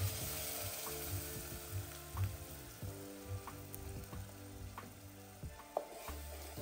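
Ground masala paste fries in oil for village-style chicken with kani masala, a continuous sizzle broken by repeated stirring scrapes and clicks of a spoon against the pan.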